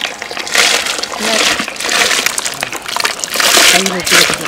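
Soaked toor dal is tipped into a pot of hot water for sambar at a village wedding kitchen, giving repeated sloshing, splashing bursts, with voices talking nearby.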